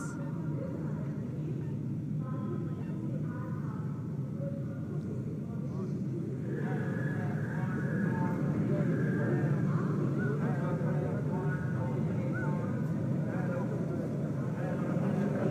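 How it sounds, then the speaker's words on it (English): Republic Day flypast over New Delhi by an airborne early warning and control aircraft with four Rafale jets in echelon, a steady rumbling jet roar passing overhead, swelling in the second half under a commentator's voice. "one airborne early warning and control aircraft with 4 Rafale aircraft in echelon, going past the saluting base"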